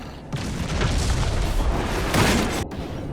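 A Qunari explosive detonating in the fantasy game Dragon Age Inquisition, a loud, close, rumbling blast that swells and rolls for a few seconds before cutting off sharply.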